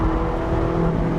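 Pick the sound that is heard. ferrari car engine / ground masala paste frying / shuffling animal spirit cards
ferrari car engine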